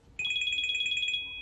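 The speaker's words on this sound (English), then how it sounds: "So you'll hear my phone ringing on here." A phone ringtone chimes in a quick repeating electronic warble, loud and close, then holds on a steady tone before fading, with no talking.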